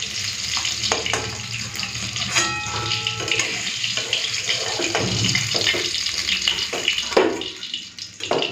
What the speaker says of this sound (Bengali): মাছ ভাজাটা হয়ে গেছে, তুলে নিচ্ছি